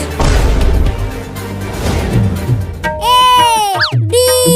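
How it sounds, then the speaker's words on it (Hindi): A loud, noisy crackling burst of a firecracker fills the first seconds, followed by cartoonish tonal sound effects and a voice. "देखा चिंटू, मैंने पटाखा फोड़ दिया।"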